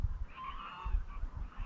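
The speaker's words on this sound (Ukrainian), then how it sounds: "за обрієм летять журавлі" Honking calls of geese, a few distant-sounding cries over low rumbling wind noise.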